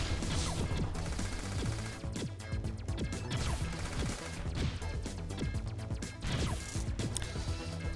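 Rapid repeating cannon fire from an enemy tank in the shoot-'em-up video game Sky Force Reloaded, a loud continuous barrage of crashing blasts and impacts layered over game music.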